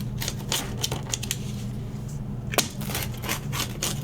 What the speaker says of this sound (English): You can hear it when you cut into the pizza.